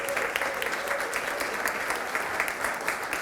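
Brief, busy audience applause at a Black History Month community arts gathering, a close, steady patter of many hands with no voices on top.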